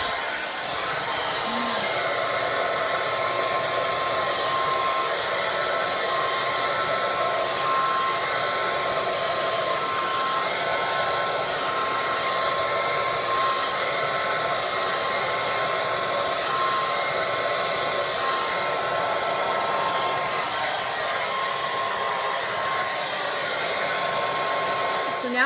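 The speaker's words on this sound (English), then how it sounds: "just to kind of blow dry really quick" A hair dryer runs steadily and loudly for the whole stretch, blow drying hair in a quick everyday styling routine, a constant broadband whoosh with a faint whine and no talking.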